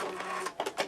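A sewing machine makes a couple of quick stitches on a fabric Christmas ornament laid on batting, a brief close mechanical whirring burst.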